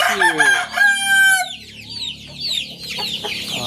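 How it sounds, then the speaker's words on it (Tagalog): Hungry chicks call at a farm during early-morning feeding. Close, overlapping peeps and clucking chatter run continuously through a short stretch. "Gutom na naman ang ating mga sisiu."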